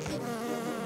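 Cartoon wasps buzz in a steady, loud, continuous drone that fills the whole short moment, with no talking over it.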